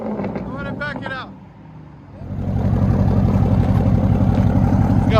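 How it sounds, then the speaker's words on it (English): A 2021 Dodge Durango SRT 392 with a 6.4L HEMI V8 and true dual straight-pipe exhaust settles into a loud, steady, rumbling idle up close, after a brief voice at the start. "It's got a nice idle to it too."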